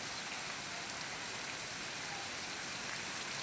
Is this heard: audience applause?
no